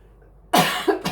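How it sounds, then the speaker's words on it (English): A single sharp cough bursts out of near silence, close and loud, followed by a shorter second hack. "Excuse me, I'm going to cough."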